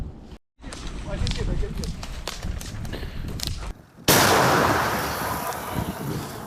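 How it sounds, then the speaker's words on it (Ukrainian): A loud, sudden blast from a 2S1 Gvozdika self-propelled howitzer near the front line around four seconds in, its broad roar rolling on and slowly fading, following a stretch of outdoor chatter and movement. "Гармата перебувала на чергуванні, раптово отримала наказ на відкриття вогню."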